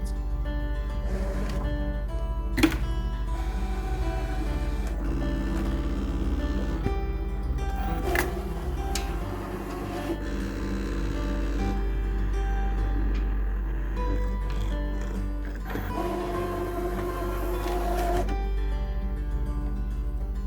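A Brother ScanNCut SDX1200 cutting machine cuts a triangle test shape in faux leather, its motor whirring and shifting in steady passes at close range, with occasional small clicks and no talk.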